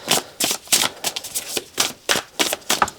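Tarot cards being shuffled and drawn from a deck illustrated with animals and plants: a rapid run of crisp, riffling paper flutters and slaps in an even rhythm, close and clear with no talk.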